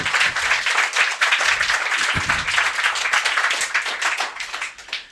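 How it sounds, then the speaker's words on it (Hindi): Strong applause for a quiz contestant, dense clapping sustained for about five seconds and fading at the end. "तो चलिए गाइस, एक बार और जोरदार तालियां अमित जी के लिए।"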